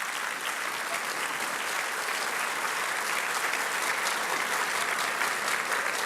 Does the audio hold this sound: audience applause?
yes